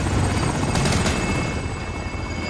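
A helicopter in the shooter Call of Duty Warzone whirs loudly and close, its rotor chop steady and dense throughout a brief moment, with no talking.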